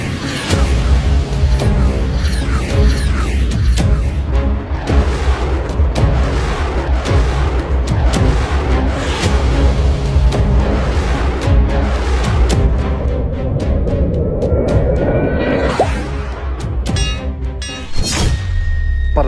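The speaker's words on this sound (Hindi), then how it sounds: "हमारे एयरक्राफ्ट पाकिस्तान के चप्पे चप्पे पर बॉम्ब गिरा रहे हैं" Bombs dropped by aircraft explode in a continuous battle effect, dense booms and thuds rumbling densely for the whole stretch with a rising whoosh near the end.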